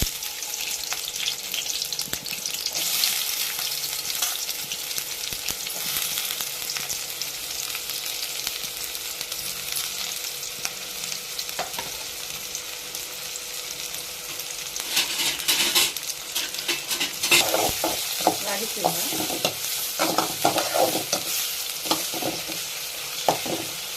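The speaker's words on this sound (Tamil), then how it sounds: "எண்ணெய் நல்லா காஞ்சிட்டு வெங்காயம் போட்டுக்கலாம்" Onions frying in hot oil in a pan give a steady, loud sizzling hiss throughout, with stirring scrapes and light utensil clinks growing busier in the second half.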